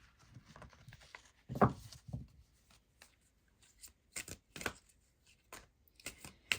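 Cards from a Halloween oracle deck are shuffled and drawn, giving soft, close papery riffles and snaps in scattered bursts with quiet gaps between them.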